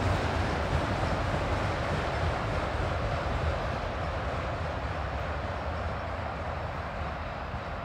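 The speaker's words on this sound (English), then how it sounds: "That was a really good train." A train rolling across a rock viaduct at a power plant, a loud continuous rumble of wheels on rails close by, slowly easing as it passes.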